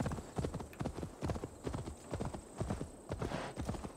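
Horse hooves gallop in a steady, quick rhythm in Assassin's Creed Valhalla, close and clear with no voices over the clip-clop.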